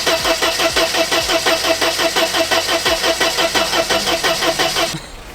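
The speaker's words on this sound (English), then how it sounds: "We're going to try and tick it over now, guys, and see if it comes on." A classic Mercedes engine cranked by its starter, a loud rhythmic churning whirr repeating steadily for about five seconds without catching, then cutting off.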